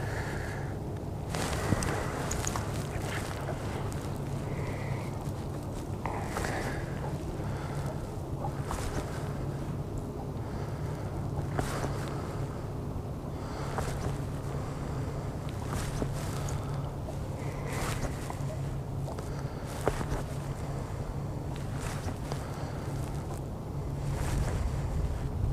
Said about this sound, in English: it almost seems like the wind might be dying now that we're getting to dusk